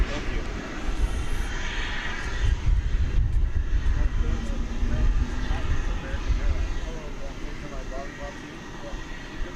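Iberia Airbus A330-200 in oneworld livery, arriving from Madrid at DFW at night, gives a steady, fairly loud broadband jet roar with heavy low rumble that holds throughout, with faint voices in the background.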